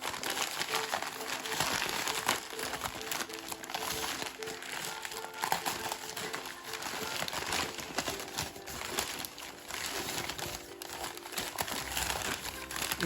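Layers of paper wrapped around a boxed mug crinkle and crumple continuously as they are unwrapped, close and fairly quiet, with no talking.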